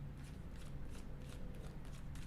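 Cards are shuffled in quick repeated riffles, soft papery bursts close by over a low hum.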